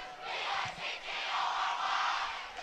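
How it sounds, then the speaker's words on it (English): A large, loud crowd at a Bingham high school homecoming football game roars and cheers in a sustained wash of voices, swelling and dipping slightly with distant distance. "This Bingham crowd is loud."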